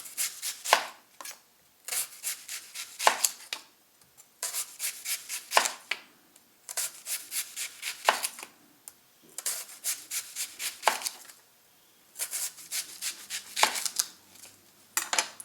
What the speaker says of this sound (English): I'm just going to cut this into very thin slices.